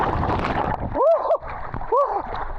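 A person jumps from a barge and splashes into water, a loud rushing splash over an outdoor background with a couple of whooping voice-like sweeps on top.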